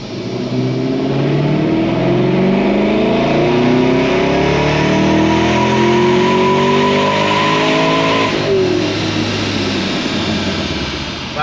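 A supercharged LS7 engine winds up through a full dyno pull, its loud engine note rising steadily in pitch for about eight seconds before the throttle snaps shut and the revs fall away.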